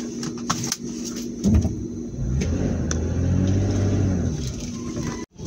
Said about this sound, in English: I'll be driving out there.